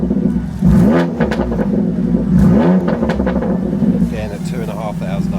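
2020 BMW M2 Competition 3.0 bi-turbo coupe held at 2,500 RPM in standard mode, a steady loud exhaust drone with a couple of short rev swells near the start, filling the whole stretch.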